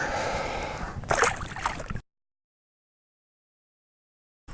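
A caught fish is released back into the water at Mallows Bay, a short slosh and splash up close. Silence follows.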